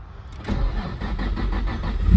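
A turbo VQ engine in a Nissan S13 cranks and catches within a couple of seconds, the starter whir giving way to a loud, close rising idle.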